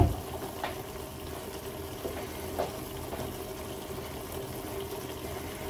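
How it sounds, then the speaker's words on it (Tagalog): Rice washing water is poured into a cooking pot for a lapu-lapu grouper dish, a soft, low trickling and filling sound that stays faint and even, with a few small splashes. "mahilig po ako maglagay ng ganito, yung pinagugasan ng bigas"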